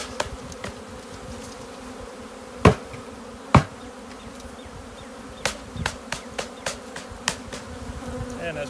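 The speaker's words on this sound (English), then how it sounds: "try to get as many bees as you can out of the package into the hive." Steady buzzing of many honey bees fills the air as a 3-pound package of bees is installed into a hive, with a few sharp knocks and taps scattered over the drone.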